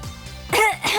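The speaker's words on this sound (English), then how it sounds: "I don't know what we're coughing about here." Video game characters in Megadimension Neptunia VIIR give a pair of short coughs, one quieter and then a louder, rougher burst, with a brief gap between them.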